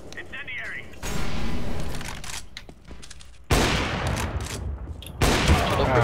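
Bursts of rapid gunfire in Counter-Strike: Global Offensive on the Inferno map erupt in sudden loud blocks, with people talking in between and under the shooting.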